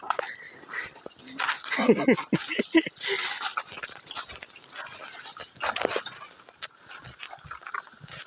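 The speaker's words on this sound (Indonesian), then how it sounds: "Ada yang menggonggong-gonggong, ada yang meraung-raung," Several hunting dogs bark and yelp in an excited jumble during a wild boar hunt in Lebak, Indonesia, with a few howl-like rising cries and panting, fairly close and continuous.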